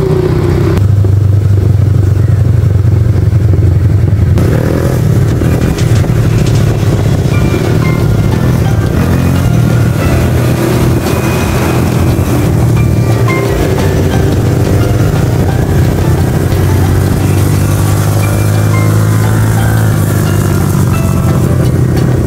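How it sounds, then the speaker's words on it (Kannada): A smart bike ridden off-road into a village, its engine droning loudly and continuously with rattling clatter from the rough track and strong wind noise throughout. "ಸ್ಮಾರ್ಟ್ ಬೈಕಲ್ಲಿ ನಾವು ಬಂದೆವು."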